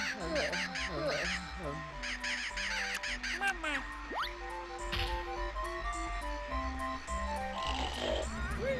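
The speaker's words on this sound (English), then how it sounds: "we just hatched a bird and got nothing out of it." In Banjo-Kazooie, a bird hatches from a big egg amid cartoonish game sounds: squawky caw-like calls, bouncy jingles and tonal sweeps over background music, with voices talking over it.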